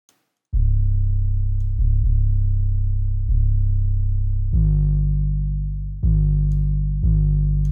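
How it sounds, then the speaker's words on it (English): Distorted 808 bass notes pushed through the Supercharger distortion plugin, six or so long booming sustained hits of different pitches with gritty harmonics, played alone in a mixing session. "I'm also going to add another distortion plugin called Supercharger"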